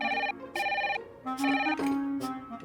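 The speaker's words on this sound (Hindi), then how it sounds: "इसका फोन आ गया।" A phone rings with a bright, repeating electronic ringtone in short bursts, several rings in a row indoors with no one talking over them.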